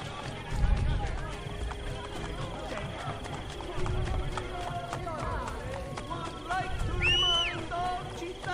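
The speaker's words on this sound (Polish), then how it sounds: "Koń zaraz przybiegnie sam do mnie." A horse in Assassin's Creed Brotherhood gallops with steady clip-clop hoofbeats and lets out a clear whinny near the end, heard alongside game music and effects.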